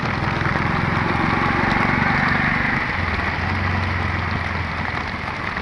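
Rain pouring down during a rickshaw ride through the Bashundhara area, a dense steady patter of drops with a low engine-like rumble from passing traffic underneath, continuous and fairly loud, no speech.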